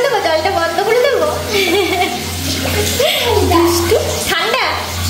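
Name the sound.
water running from tap for child's bath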